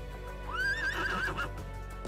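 A horse in the video game Trails of Cold Steel II gives a single rising, wavering whinny that sounds like laughter, clear and close over a steady game background hum.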